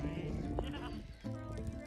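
A sheep, a mother ewe with triplet lambs, bleats in a short, wavering call among farm sounds, with a second bleat following near the end and a possible faint voice in the background.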